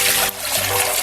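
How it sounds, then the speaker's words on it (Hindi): Water is poured into a pot holding half a kilo of rice for cooking, a brief close gushing splash that dips momentarily and then resumes. "ये चावल बनाएंगे, इसके लिए हमने आधा किलो चावल लिए थे और उसमें 1 किलो पानी डालेंगे"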